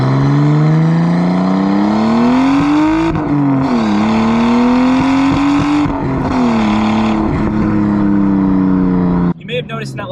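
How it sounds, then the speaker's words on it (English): A Nissan R32 Skyline accelerates hard with worn spark plugs, its engine note rising steadily through several gears with brief dips at each shift, loud and close, the sound breaking up roughly before cutting off near the end. "my car is actually breaking up, and that's because I need to change the spark plugs"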